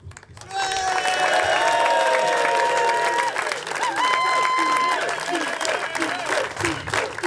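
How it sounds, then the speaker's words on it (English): A crowd at a blind football tournament applauds loudly and steadily, with cheering and whistles mixed in; a high tonal sound rings out over the clapping. "Please, a big applause for DJ and David."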